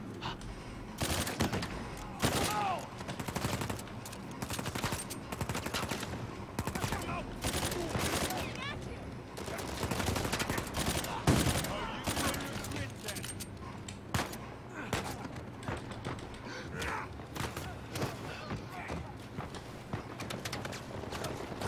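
Dense gunfire in Uncharted 4: A Thief's End, with rapid bursts and scattered shots going almost continuously at close range, plus clattering impacts and a player talking now and then over the shooting.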